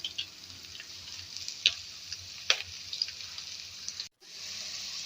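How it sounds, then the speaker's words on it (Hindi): Raw mango pieces sizzle and fry in a pan for chutney, a steady soft crackle with a couple of sharper stirring clinks, quiet and close, briefly cutting out near the end. "आम की तकरीबन हम 3 से 4 मिनट तक भुनाई करेंगे।"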